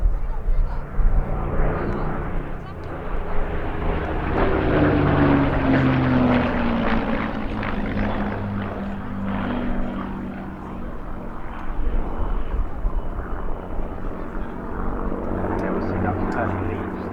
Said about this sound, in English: Line abreast formation of the two Spitfires.